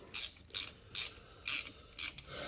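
A ratchet wrench working an oil drain bolt on a car, five crisp bursts of metallic clicking in an even rhythm, close and fairly loud, with short pauses between strokes.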